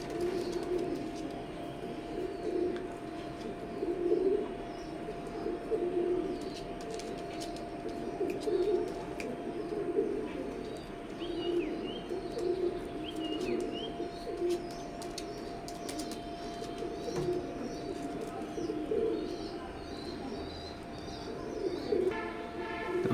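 Imported Teddy breeder pigeons coo in a steady, low, repeated rhythm, moderately close. Faint chirps sit behind them alongside a constant electrical hum.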